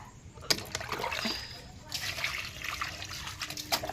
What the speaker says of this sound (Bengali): চলো এই পাটা ধুয়ে নি